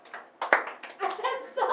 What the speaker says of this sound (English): Use your hands to clap while walking.